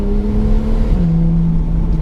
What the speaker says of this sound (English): The gearbox on this, it's just sublime. Just listen to that.